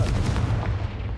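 A Confringo blasting spell in Hogwarts Legacy lands as a short, deep, muffled boom with a rumbling tail, fairly loud and alone.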